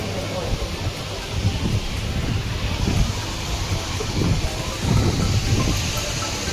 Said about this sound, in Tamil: மழை வந்துருச்சு லைட்டாக தூறல் போடுது.